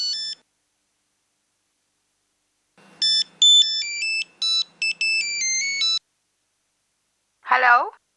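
A phone ringtone plays a short electronic melody of stacked bright tones, one brief burst then a longer multi-note phrase, followed by a voice.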